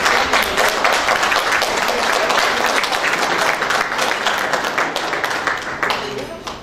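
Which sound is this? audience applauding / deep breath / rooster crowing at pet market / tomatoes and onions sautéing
audience applauding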